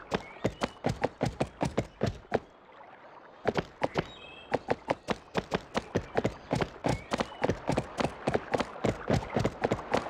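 Steady clip-clop of a horse's hooves from the Barbie Horse Adventures: Wild Horse Rescue PS2 game, a regular brisk rhythm close and clear, with a short pause before the trotting resumes.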